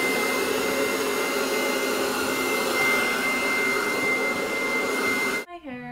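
Hair dryer on high setting rough-drying thick hair: a loud, steady close-up blowing whoosh running continuously, then abruptly switching off near the end.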